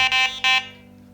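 A FOX fishing bite alarm gives two quick buzzy beeps in a lower, drop-back tone, the second trailing off into a fading ring.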